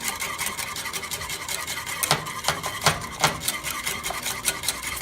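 A whisk beats matcha green tea into a foamy latte, a fast steady scratchy swishing against the bowl with quick rhythmic strokes, close and fairly quiet with no voices.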